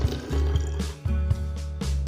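Water pours into a plastic spray bottle in short glugging bursts, the pitch rising as the bottle fills, close and fairly loud with brief pauses between pours.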